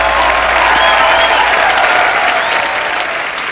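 Loud, dense applause from a studio audience on a comedy show welcoming a singer, sustained clapping close to the microphone that eases slightly toward the end.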